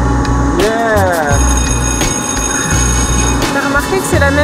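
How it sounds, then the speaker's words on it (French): Continuous electric bell ringing loudly at a Panama Canal lock, sounding like a school recess bell, with a steady rattling clang and people talking over it nearby. "T'as remarqué que c'est la même sonnerie que la récréation?"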